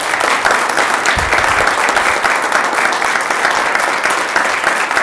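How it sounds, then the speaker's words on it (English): Steady, full applause from the audience at a school board meeting honoring students, a dense even clatter of many hands sustained throughout. "let's give a round of applause for the students."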